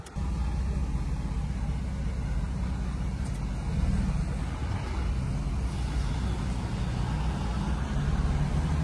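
A 1990 Mercedes 300 CE AMG engine rumbles steadily at close range as the car drives away, a low continuous drone that holds on without fading, with no one speaking.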